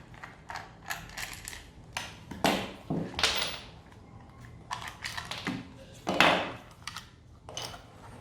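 A cordless brushless 18V impact wrench battery pack is taken apart, making a scattered series of sharp plastic clicks, snaps and rattling handling noises, close and fairly quiet, with no speech.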